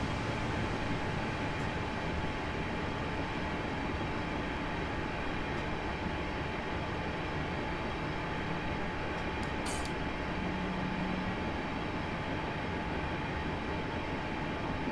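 A train in Train Simulator 2019 on the Wimbledon to West Croydon route rumbles steadily at close range, a constant rolling drone of wheels and motors with a brief higher squeal partway through.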